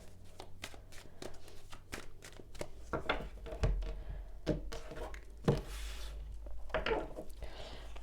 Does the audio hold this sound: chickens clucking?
no